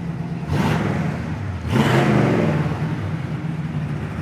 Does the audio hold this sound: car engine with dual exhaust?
yes